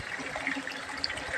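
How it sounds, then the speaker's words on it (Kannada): Water runs from a pipe into a tank, a steady close-up rushing and trickling splash that stays even and moderately loud for the whole short stretch. "ಇವಾಗ ಇಲ್ಲಿ ಟ್ಯಾಂಕಿಗೆ ನೀರು ಬಿಡ್ತಾಯಿದ್ದೀನಿ."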